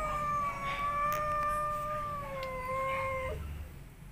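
An angry domestic cat near a cardboard box growls and howls in one long, loud, wavering yowl that drops in pitch before breaking off, with no talking over it.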